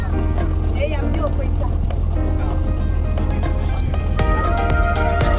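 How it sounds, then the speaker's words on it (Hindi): A desi-style motor boat carrying passengers to Bet Dwarka, its engine a continuous loud low chugging drone throughout, with clattering and brighter mechanical noise joining near the end. "और ये जा रही है हमारी बोट देसी स्टाइल में, दुक दुक दुक करते पहुँच गए ये अपना इलाके में भेंट द्वारिका"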